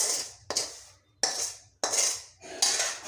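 Pointed gourd pieces tipped into a bowl in four distinct clattering bursts, each a sharp hard-edged rattle against the dish that trails off before the next, close and fairly loud with no talking.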